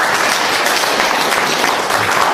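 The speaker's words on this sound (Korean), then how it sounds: "이럴 때는 박수를 쳐야지" A seated audience at a Buddhist monk's lecture claps together in dense, sustained applause, loud and close throughout with no pauses.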